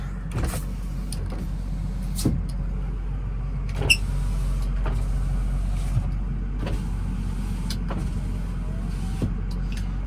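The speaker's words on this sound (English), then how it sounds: "the power rear windows as well as the sunroof tends to be somewhat unreliable" Power rear windows and sunroof of a 2007 Ford F350 6.0 Powerstroke truck whir in short motor runs with clicks and thumps as they start and stop, heard close inside the cab over a low steady rumble.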